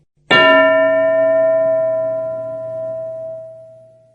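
One strike of a bell rings out clearly and loudly, then its bright, sustained tone fades slowly over about four seconds in an otherwise quiet room.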